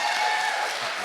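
A studio audience claps in steady, dense applause, loud and sustained throughout with no gaps.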